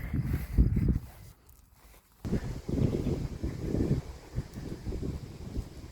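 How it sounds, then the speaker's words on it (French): Gusty wind buffets a microphone outdoors, low rumbling bursts that drop out briefly mid-clip before returning strong and steady. "Bon, désolé, il y a du vent."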